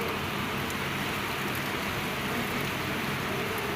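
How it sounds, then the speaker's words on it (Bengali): Rain falls on an open rooftop, a dense, even wash of noise with no breaks, steady and close throughout, with no voices. "পরে বৃষ্টিও আস্তে আস্তে বাড়তে শুরু করলো।"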